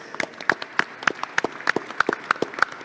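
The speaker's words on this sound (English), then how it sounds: "join me in a round of applause to our speakers" A small audience at a conference plenary session claps for the speakers: a few distinct hands produce sharp, fairly regular claps, close and clear, with no talking.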